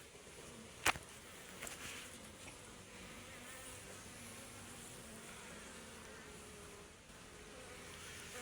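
Honey bees buzz steadily around a hive after being given a pollen and honey cake, a continuous, fairly quiet drone, with a sharp click near the start and no talking.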